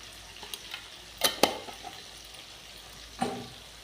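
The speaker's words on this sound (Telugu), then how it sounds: "వేసినాక తిప్పాలి" Stirring turmeric into cooked tomato and onion for fish curry gives a few scraping spoon strokes against the pan over a faint sizzle, close by, with no talk.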